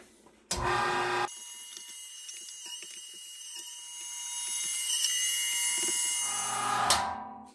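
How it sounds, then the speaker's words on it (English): An electric meat grinder whirs steadily as strips of bacon go through it, a close, even mechanical drone with faint clicks and rattles, bracketed by louder bumps at start and end. "let's get this stuff ground up"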